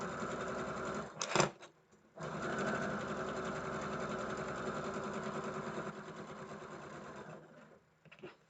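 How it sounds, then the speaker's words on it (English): A sewing machine stitches fabric for a quilt block in a long, steady, rapid mechanical whir, briefly broken by a short pause and a clunk near the start, then running evenly before stopping near the end. "And I'm dropping it down and stitching."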